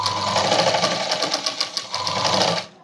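A sewing machine stitches piping onto a padded blouse, a fast, even mechanical chatter running close and loud for nearly three seconds before stopping abruptly.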